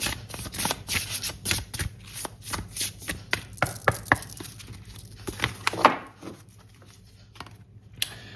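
A large deck of oversized tarot cards being shuffled by hand, a quick run of crisp riffling slaps and flutters close up, then slowing to a few final taps.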